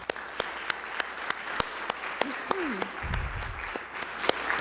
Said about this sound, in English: Please join me in giving them a hearty round of applause